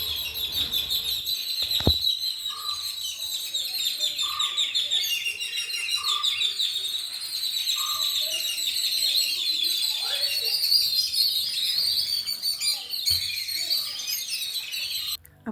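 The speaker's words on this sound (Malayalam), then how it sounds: "ഭയങ്കര സൗണ്ടാണ് ഈ കിളികൾക്ക്." Birds chirp loudly and continuously behind a house, a dense high twittering with a few louder calls standing out, heard close and alone with occasional thumps.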